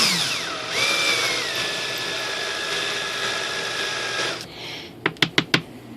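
An electric motor on an RC sailplane, a 2.6 m composite ASH26, spins on a bench test with a steady high-pitched whine, rising and holding, then stops, followed by four short sharp beeps from the speed controller.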